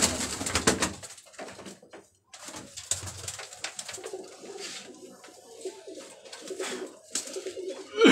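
Golden teddy pigeons coo in a loft, with soft, low, repeated calls under rustling, wing flutters and movement nearby. No one speaks.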